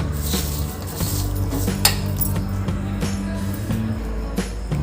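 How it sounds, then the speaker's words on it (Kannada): Avalakki chuda, a North Karnataka flattened-rice dish, being spooned from a vessel into a serving bowl, with a series of light metallic clinks and scrapes of utensil against dish over a steady low hum, no voices. "ಈಗ ಇದನ್ನ ಸರ್ವಿಂಗ್ ಬೌಲ್ಗೆ ತೆಗಿತಾ ಇದ್ದೀನಿ"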